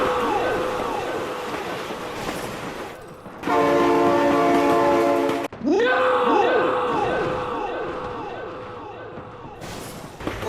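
A train roars past in the BeamNG driving game, its loud multi-tone horn blasting in long sustained bursts with a brief cut in between, while a voice shouts excitedly over it.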